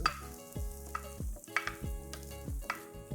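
Garlic sizzles and crackles softly in a hot pan, with intermittent clinks and scrapes of a utensil stirring it; fairly quiet and close.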